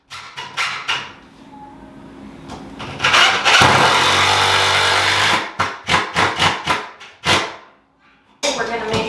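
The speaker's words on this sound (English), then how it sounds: "My husband and I are now screwing the board into the studs using 3-inch construction grade screws." A power driver drives 3-inch construction-grade screws through a board into wall studs, with loud whirring bursts of varying length, including one long sustained run, separated by short pauses and quiet gaps.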